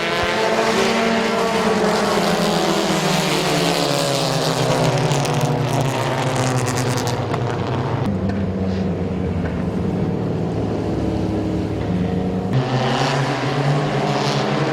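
Race cars roaring around the oval at Midvale Speedway under green, a loud continuous engine drone with shifting pitch as the pack passes, no talking.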